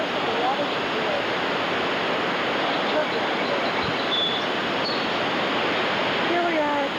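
Water roars steadily at the base of a dam at Parkview, Georgia, a loud, continuous broadband rush that fills the whole scene, with faint bird chirps breaking through near the end.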